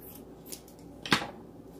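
Scissors cutting a piece of quilting fabric in half make one crisp, close snip after a softer earlier click, against quiet room background.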